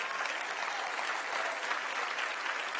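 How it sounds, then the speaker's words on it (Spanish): A church congregation applauds during a Sunday service, a steady, dense clapping that holds at an even level throughout with no voices rising above it. "Mejor démosle otro aplauso al Rey bendito"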